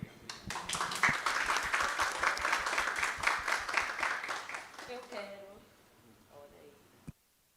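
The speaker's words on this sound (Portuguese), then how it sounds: "Quero uma salva de palmas com mais vigor para essa mesa maravilhosa" An audience at a panel discussion breaks into loud, dense applause that holds for about five seconds, then thins out as a voice speaks over the fading claps, ending with one sharp knock.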